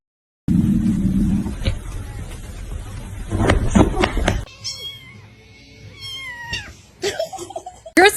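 A cat meows several times in drawn-out, wavering calls, close and clear, after a stretch of rougher noise and brief voices.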